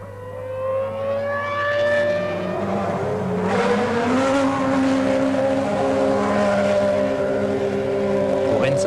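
A 2002 Formula 1 car driven by Enrique Bernoldi at the British Grand Prix screams past, its high engine note rising and shifting in pitch over a constant low drone.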